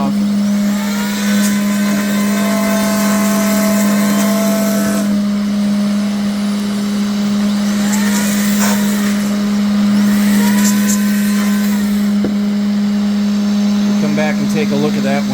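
A CNC router cutting a clear acrylic panel, with a blower running beside it to clear the chips, gives a loud, steady machine drone and strong hum throughout, with shifting whine tones as the cutter moves.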